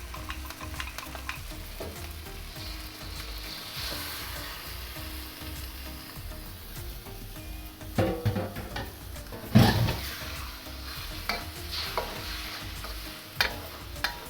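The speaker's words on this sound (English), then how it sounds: "I'm gonna give it one final mix." A pan of Thai shrimp curry stir fry with red chili and sauce sizzles steadily while a utensil stirs and scrapes through it, with louder clanks of the tool against the pan near the end and no talking.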